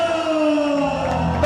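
An ice hockey crowd cheers the home team Solway Sharks at the ice bowl, a loud sustained roar of voices with a sharp whoop at the close.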